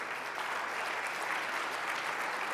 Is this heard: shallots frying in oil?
no